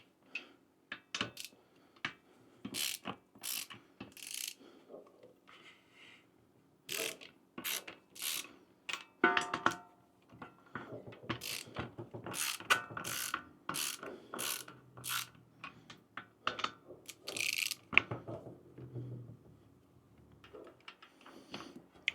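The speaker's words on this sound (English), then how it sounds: "we're going to go after these large compressor bolts. And they are also 14 millimeter." Ratchet wrench clicking in quick bursts while loosening 14 mm compressor bolts on a GX CS4 pump, close and crisp, with short metallic clatters and pauses between runs.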